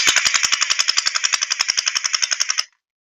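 A BIU Blaster Uzi gel ball blaster with a motorized drum magazine fires a rapid full-auto burst of about twenty-five evenly spaced shots over the whir of its motor, loud and close, then stops abruptly.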